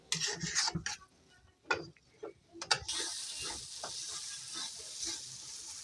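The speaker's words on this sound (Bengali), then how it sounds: "মশলাটা খুব ভালো করে এমনি করে কষে নিতে হবে" Spice masala frying and being stirred for a pond kalbaus fish kalia: a few sharp scraping strokes against the pan up front, then a quieter steady sizzle continuing alone, fairly faint and close.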